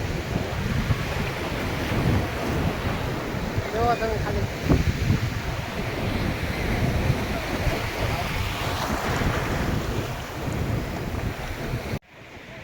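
Rough sea waves and gusting wind on Somnath beach make a continuous roaring wash with heavy wind buffeting on the microphone, while someone speaks briefly over it.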